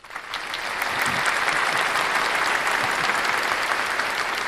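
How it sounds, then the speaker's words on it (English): A crowd claps together for several seconds, the dense applause rising quickly after a soft start and holding steady and fairly loud throughout. "That's well deserved of a clap"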